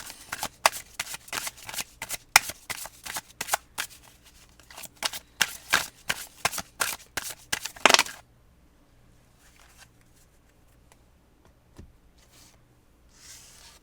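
Tarot cards are shuffled briskly and up close for about eight seconds in a rapid series of riffling snaps, followed by near silence with only faint handling sounds.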